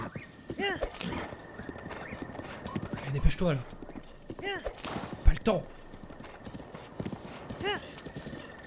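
A horse's hooves clip-clop steadily in Zelda Breath of the Wild, with several neighs and whinnies cutting in along the way, all heard under someone talking.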